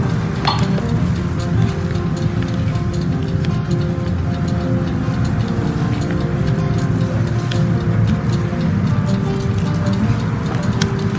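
Dry muffin ingredients, including salt, cinnamon, sugar, baking powder and bicarbonate of soda, are stirred quickly in a bowl with a continuous loud ticking and clinking rhythm of the utensil against the sides.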